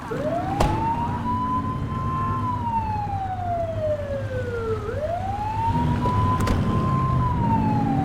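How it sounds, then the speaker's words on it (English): Police car siren in The Precinct video game wails loudly, sweeping up and down in long smooth cycles over a low steady engine rumble, with a brief sharp click near the start and another near the end. "Turn that siren off."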